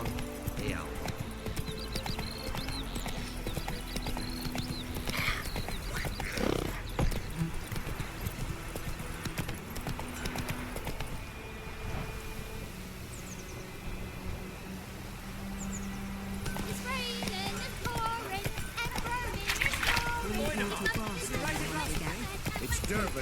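Roach the horse from The Witcher 3 galloping, a rapid steady clip-clop of hooves running on and on under frequent male speech and background game music.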